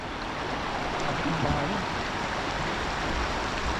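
A strong river current rushes steadily and close by, a constant broad watery roar with no breaks, during a fishing trip.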